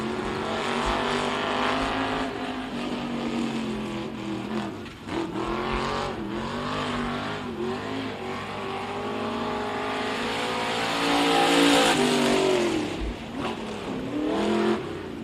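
A race car pulls away from a pit stop at Kennedale Speedway Park during a regular race program, its engine revving and climbing through the gears, loud and sustained, with other cars droning on track.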